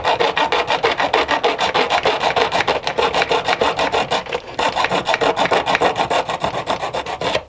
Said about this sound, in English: I just took the little hacksaw blade.